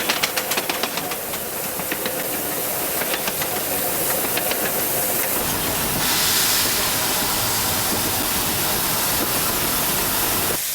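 A RENFE steam locomotive running with its train in Spain, rapid rhythmic chuffing at first giving way to a loud continuous steam hiss, close and alone.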